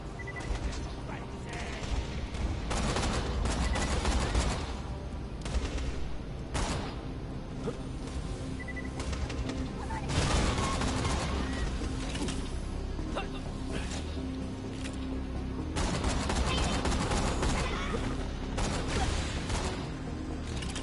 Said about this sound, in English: This sniper rifle is a you point it and you spam kind of sniper rifle.